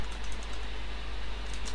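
Rapid typing on a computer keyboard while writing ASP.NET web page code, a steady patter of light key clicks at close range over a constant background hiss, with no voice.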